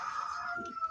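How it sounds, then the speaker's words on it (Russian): A hen gives a brief, sharp cackle after laying an egg, a single close, tonal call lasting about a second. "слышите, курица снеслась"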